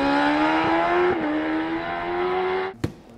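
A 2021 Kawasaki ZX-10R superbike engine holds a loud, steady high-revving note close by for about three seconds, then drops away with a brief knock at the end.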